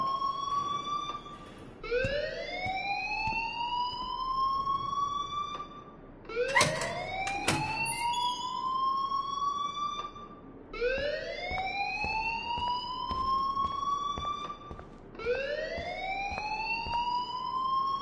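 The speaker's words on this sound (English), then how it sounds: "please turn off that alarm since that's your job" An electronic alarm in a video game wails in repeated rising sweeps, four or five cycles at a steady pace with a brief burst of clatter between, loud and alone without speech.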